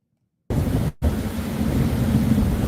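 Outdoor thunderstorm during a lightning-filled night: after a moment of silence a loud, close wash of rain and rumbling thunder bursts in, briefly drops out, then continues as a steady heavy roar with no talking.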